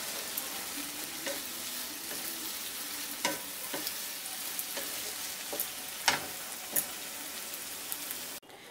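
Banana stem and prawn chhechki being stirred in a pan on the gas, a steady sizzling hiss broken by several sharp scraping and clacking stir strokes, close and alone without talk, cutting off abruptly near the end.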